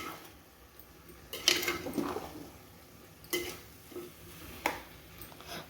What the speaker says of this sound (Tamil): எல்லோரும் கிளறி விட்டுடுவோம்.